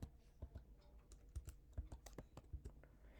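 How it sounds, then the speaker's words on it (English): Typing on a computer keyboard, with quick irregular clicks of keys close by in a quiet room, some louder thumps among the lighter taps, and no speech. "now we're going to type in font size"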